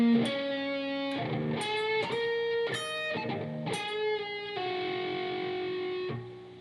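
Electric guitar with overdrive playing a solo slowly, a run of sustained, bent and picked notes with brief pauses, loud and up front, ending on a long held tone.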